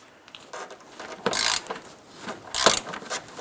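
Ratchet loosening the strut top bolt on a 2008-2013 Nissan Rogue during front strut replacement: two short bursts of rapid clicking, fairly close, with quiet gaps between them.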